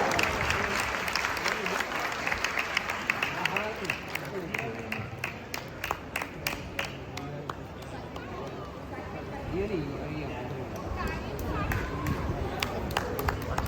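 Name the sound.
audience applause for children's cultural performance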